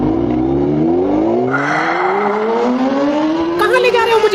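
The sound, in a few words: Honda motorbike engine starting and driving, cartoon effect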